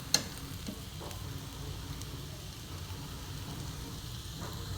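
Capsicum (bell pepper) sabzi with coriander sizzles and crackles softly in a pan, a steady frying hiss with light popping and one sharp clink near the start.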